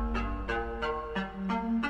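A short loop of a synth melody from a Vital preset layered with FL Studio's Sakura, rendered to audio, gives six evenly spaced plucked notes over a held low tone, clear and without voices.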